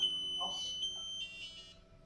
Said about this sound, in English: Now I'm going to move to the maximum sensitivity, which is sensitivity 5, and you'll activate the alarm